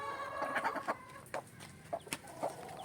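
A broody hen that has just chased someone from her nest of hatching eggs clucks in short, sharp bursts, several close calls with brief pauses between them.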